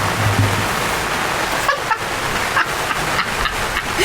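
Heavy rain drumming on a gazebo roof in a garden, a loud steady hiss of dense patter with occasional louder drips, no voices.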